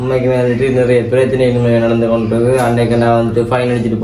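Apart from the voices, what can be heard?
No everyday noise stands out behind the speech.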